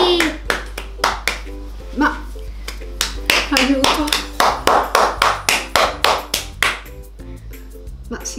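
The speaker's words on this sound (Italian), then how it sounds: "Fate un applauso a mamma" Sharp, close handclaps ring out in an irregular, lively rhythm for mom at home, joined by a voice and brief chatter.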